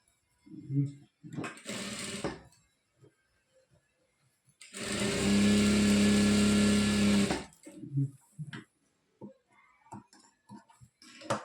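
A sewing machine stitches a chudidar pant in one steady two-second run, loud and close, with short bursts of whirring before it and a person talking softly between the runs.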